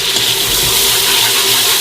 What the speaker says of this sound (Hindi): थोड़ा सा पानी डाल के इसको मिक्स करेंगे।